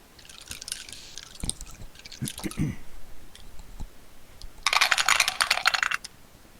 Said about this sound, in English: My bag is empty, so I got 6 beautiful dice coming at you.